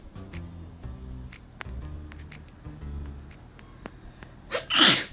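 A girl sneezes loudly near the end during a Covid-19 nasal swab test, following quiet sniffles, clicks and a low hum in the room.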